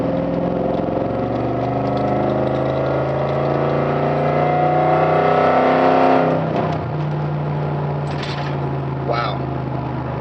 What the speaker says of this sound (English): Alright, it's a new exhaust.